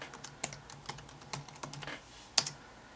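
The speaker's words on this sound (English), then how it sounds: "Enter in our email and our password here." Computer keys tap in an irregular run of light, close clicks while an email and password go in, one sharper key strike near the end, no voices.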